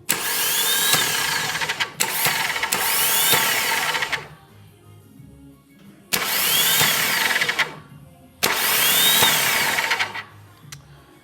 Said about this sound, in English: So when I touch this on the battery, the starter should spin